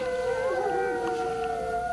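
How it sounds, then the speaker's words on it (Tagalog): Several dogs howl together at night in long, wavering, overlapping tones, steady and fairly close, with no talk over them. "Umaalulong na naman ang mga aso, katulad kagabi."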